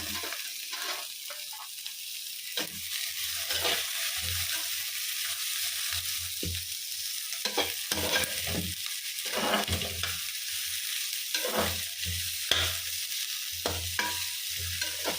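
Tomatoes fry in an oil-filled pan, two large ones added after onions, with a steady sizzle and repeated scraping stirs throughout, close and moderately loud.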